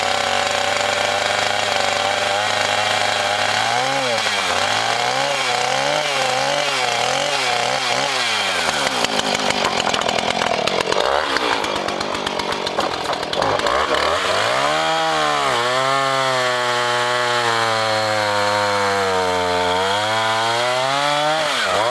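A chainsaw runs loud and close for the whole stretch, its engine revving up and dropping back in repeated swells, then holding a high, steady whine near the end.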